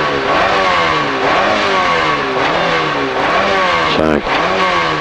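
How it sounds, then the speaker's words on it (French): A Porsche rally car passes at speed during a Belgian rally stage, its loud engine revving and shifting through gears close by, with a voice heard over the roar. "Voilà la Porsche."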